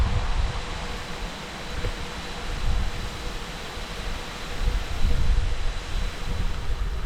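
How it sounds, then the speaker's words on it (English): Wind gusting across a quiet country lane during a late-summer bicycle ride, a steady broadband rush with low buffeting that swells around the middle and again toward the end, no voices. "That wind's getting up."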